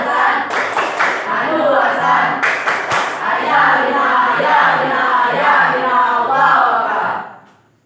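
A school class performs a 'tepuk semangat' clapping chant: bursts of group hand claps mixed with children's chanting voices in a classroom, lasting several seconds before fading out.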